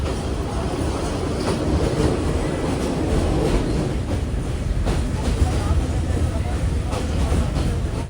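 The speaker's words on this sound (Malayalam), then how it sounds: "ട്രെയിൻ ഇപ്പോൾ ദമോദര സ്റ്റേഷനിലേക്ക് എത്തിയിരിക്കുകയാണ്." Sri Lankan observation saloon train on the Badulla–Colombo line rolls steadily into Demodara station, a continuous loud rumble of wheels and carriage noise with faint clickety-clack, voices murmuring beneath.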